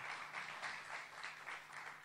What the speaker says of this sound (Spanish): Pueden aplaudir, no sean tímidos.